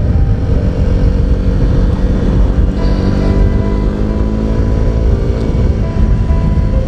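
Riding a Honda CB125R 125cc motorcycle: a steady, loud engine hum blends with rushing wind noise, holding an even drone throughout.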